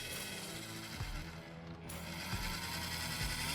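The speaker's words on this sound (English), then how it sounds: "The tail rotor's cutting the grass." A radio-controlled helicopter's tail rotor spins low enough to chop into grass, giving a steady mechanical whirring buzz with faint ticking, close by and continuous for a few seconds.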